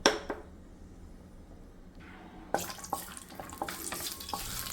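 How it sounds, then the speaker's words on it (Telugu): Cashews frying in a little ghee for rava kesari give a quiet sizzle at first, then a louder crackling burst with stirring scrapes and small clicks from the pan. "ముందుగా కొద్దిగా గీ అయితే వేసుకొని కాజు అయితే ఫ్రై చేసుకున్నాం."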